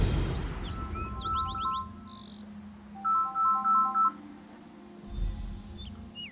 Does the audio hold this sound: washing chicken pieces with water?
no